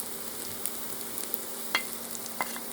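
Onions sizzle softly in oil, a quiet steady crackle with occasional sharper pops and scrapes, close by and without talk.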